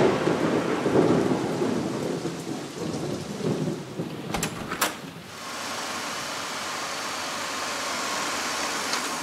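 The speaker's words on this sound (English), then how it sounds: "It's raining." Heavy rain pours steadily while thunder rumbles in the first half, followed by a couple of sharp cracks and then a softer, even hiss of rain.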